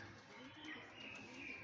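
A pigeon cooing softly in a low, rolling murmur, faint and close, with a few brief chirps above a dull background hum.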